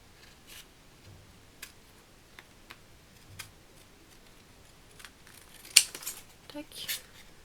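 Scissors snip around a piece of paper in sparse, quiet clicks that grow busier and louder near the end, close up in a hushed room with no talk.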